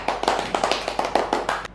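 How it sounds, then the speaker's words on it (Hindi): A few people clap in a classroom comedy skit, giving a loud run of distinct, fairly regular slaps, about two or three per half second, alone with no talk. "और क्या, तालियां बजाओ।"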